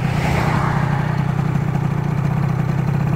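Yamaha Aerox scooter with a flow-ported Metrakit cylinder, riding at around 100 km/h: a steady, loud engine drone that holds without a break throughout, with no talking.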